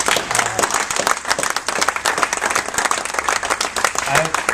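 Summit audience of chiropractors giving students a round of applause, a dense, continuous burst of many hands clapping close and loud throughout.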